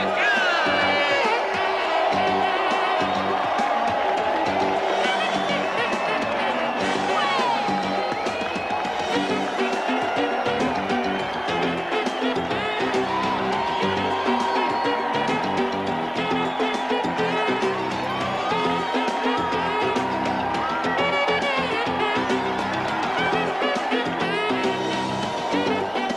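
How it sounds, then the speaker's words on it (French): A crowd roars and cheers wildly, loud and sustained, as a woman wins the world cage-fighting championship title, with shouting voices and a dense wall of noise. "La foule est au délire."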